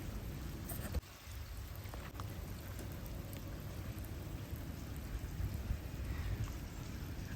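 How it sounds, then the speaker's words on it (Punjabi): Continuous broadband hiss of rain falling steadily, fairly even in loudness with one brief knock early on. "ਮੀਂਹ ਤੇਜ਼ ਵੀ ਹੋ ਸਕਦਾ ਸਾਰੇ ਪਾਸੇ ਹੀ ਪੈਂਦਾ ਮੀਂਹ"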